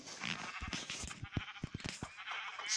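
Sheep bleating in the Minecraft Pocket Edition video game, several short game-audio bleats in quick succession over steady background game sound.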